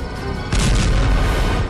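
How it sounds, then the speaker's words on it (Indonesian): A car in a film bursts into a loud, close explosion, a sudden deep boom that erupts after a brief rumble and holds as a roaring blast before cutting off. "Mobil Eka yang meledak"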